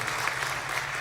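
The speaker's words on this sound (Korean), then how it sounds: "일어나서 한번 박수 한번." A church congregation applauds at a Bible lecture in Atlanta, a brief, dense, steady patter of many hands filling the whole moment at moderate loudness.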